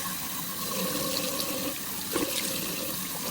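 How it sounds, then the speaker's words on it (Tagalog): Running water splashing steadily as soap is rinsed off a face at a sink, a continuous close wash of flowing liquid with a few brighter splashes near the end and no talking. "dahil natuyo ng ating sabon, banlawan na natin"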